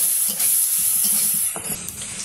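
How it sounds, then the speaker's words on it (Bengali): Onion and green chili frying in a pan for a village-style chicken curry, a steady close sizzle with occasional stirring scrapes, no voices over it. "এই যে পেঁয়াজ মরিচ ভাজা হয়ে গেছে"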